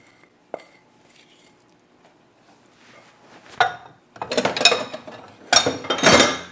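Blueberry pie filling is scraped into a pie pan. Quiet kitchen sounds come first, then a few loud bursts of scraping and clinking near the end.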